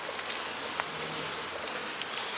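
A small honey bee colony, likely buzzing faintly and steadily close by, a soft continuous hum with no talk.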